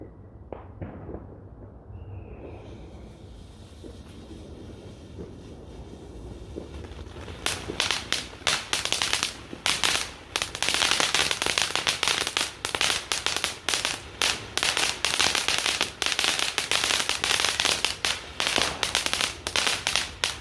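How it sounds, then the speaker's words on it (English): Firework from a budget low-noise selection box on Bonfire Night: a few seconds of quiet, then a loud, dense burst of sharp crackling and popping that keeps going to the end. "Quite a loud crackle for a low noise box."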